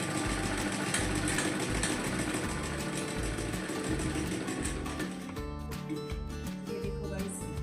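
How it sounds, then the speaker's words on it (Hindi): Sewing machine running steadily while double-stitching fabric, a close, continuous rapid mechanical chatter that slows and shifts slightly near the end. "मैं डबल सिलाई करूँगी इसके ताकि जो स्टिचिंग है वो छूटे ना"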